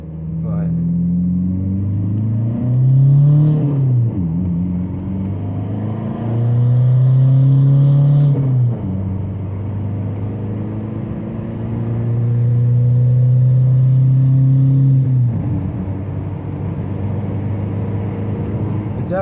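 A VW Mk5 TDI diesel car with a big-turbo build pulling hard through the gears, engine drone rising in pitch and dropping at each shift, loud and steady from inside the cabin with someone talking over it.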